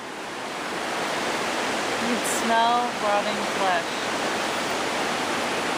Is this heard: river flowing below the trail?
yes